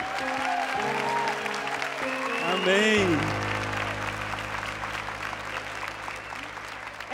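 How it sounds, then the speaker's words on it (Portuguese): Applause at a church worship show, a spread of clapping under a speaker's voice and sustained organ-like music tones with a brief sung phrase, the crowd continuing steadily. "Uma salva de palmas para o amor do Pai"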